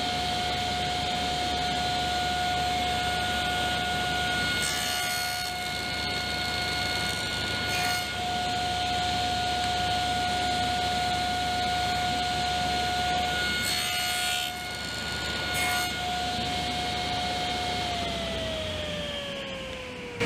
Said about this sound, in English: first cut 2 dados, a dado on each side of this stick here